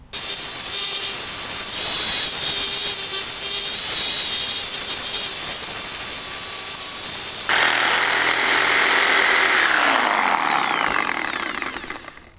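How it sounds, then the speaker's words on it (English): A saw cuts deep through a piece of dead wood for firewood, giving a loud, continuous buzzing rasp that shifts in tone partway through and then winds down at the end. "I'm going to saw that way down deep here somewhere."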